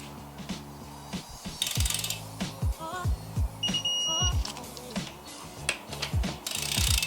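Wrench ratcheting on the connecting rod bolts of a Mazdaspeed engine during a rod bearing and piston build, giving repeated clicking ratchet bursts with sharp metallic knocks and a few faint beeps, close and fairly loud.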